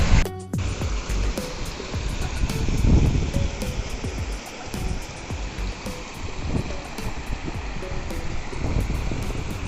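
A hillside waterfall at Sishupal Parbat near Saraipali, heard as a continuous broad rushing roar of falling water, with wind buffeting the microphone and a faint thread of music underneath.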